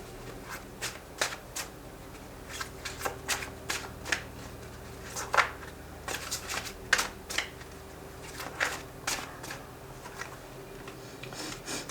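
Tarot cards riffled and shuffled by hand in a run of crisp, rapid flutters and taps, each burst short and close, repeating irregularly over about twelve seconds with no talking.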